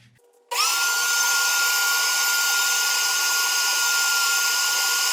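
Shop vacuum switching on and running steadily to clean out engine hoses on a 1999–2006 Silverado during a head gasket job, a loud constant whine and rush that holds close and unbroken after a brief quiet start.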